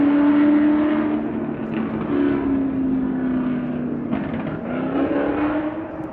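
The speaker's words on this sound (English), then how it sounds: "Got 4 Mustangs running hot through the mountains" Four Ford Mustangs run hot through the mountains, their engines droning and rising in pitch as they accelerate and pass at a moderate distance, one roar fading into the next.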